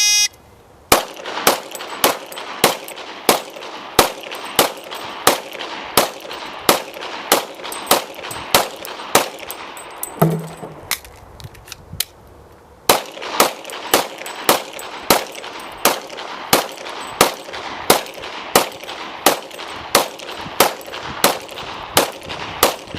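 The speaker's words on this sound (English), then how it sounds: "demonstrate by shooting the 2 15-round magazines" Rapid pistol fire at a shooting range as two 15-round magazines are emptied at three targets, sharp loud regular shots in a fast steady string, a brief pause for the magazine change midway, then the shots resume.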